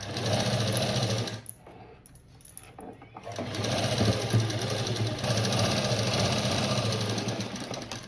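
A sewing machine stitches a blouse made from a sari border, running in a steady rapid whir that pauses briefly near the start and then carries on close and continuous.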